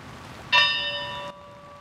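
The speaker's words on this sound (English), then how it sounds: "The moment of silence will begin and end with the striking of the ship's bell." A ship's bell is struck once at a moment-of-silence ceremony in Halifax. It gives a bright, ringing strike that sustains for under a second and then cuts off in quiet surroundings.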